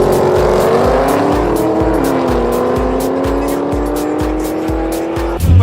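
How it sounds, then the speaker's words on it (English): A WA Police drag racing car roars loudly and steadily on a drag strip at a race meet, its engine note climbing in pitch, with a brief louder burst near the end. "the WA Police Beat the Heat team in one of their drag cars got out on the strip"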